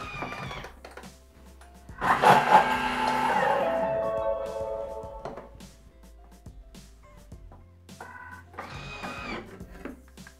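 A Thermomix chops onion with oil at speed 7 for about five seconds, a close, loud whirring burst that rises and then tapers, followed by quieter clatter and handling noises in a kitchen.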